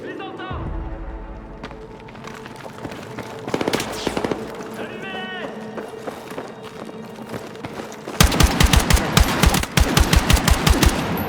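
Gunfire rattles through a Battlefield 6 campaign scene: scattered shots and footsteps give way to loud, rapid machine-gun bursts in the final seconds, with game voices heard speaking beneath.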